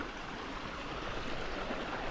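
A river flowing through farmland near lanzones trees gives a steady, close rushing of water with no clear breaks and no talk over it.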